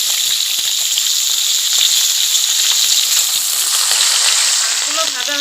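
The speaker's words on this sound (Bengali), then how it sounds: "একটা মাছ হয়ে গেছে, এখন আমি উল্টো পাল্টা করে ভেজে নিব।" Small pond-caught chharpina fish frying in hot oil, a loud, continuous hissing sizzle with bursts of spattering, close up and without speech.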